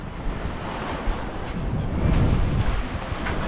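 Wind and waves surround a sailboat under mainsail and genoa in about 10 knots of breeze near the Tobago Cays, a steady rushing wash of water against the hull under continuous wind roar, close and fairly loud, with no voices.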